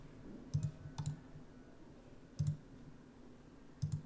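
Computer mouse clicks, four soft, close clicks spaced irregularly over a few seconds against a quiet background.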